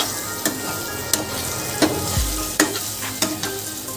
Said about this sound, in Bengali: আমটাকে আমি নুন হলুদ দিয়ে খুব জোর 3 থেকে 4 মিনিট ফ্রাই করলাম